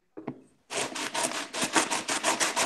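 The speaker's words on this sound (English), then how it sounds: "let me mute the sanding for a second" Wood being sanded by hand, a steady run of rough, rhythmic rubbing strokes after a brief knock or two at the start, loud and close with no voices.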